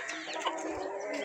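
Gramalakshmi roosters, a laying-hen breed, cluck on a farm, a busy overlapping chorus of clucks with no pauses and no voices.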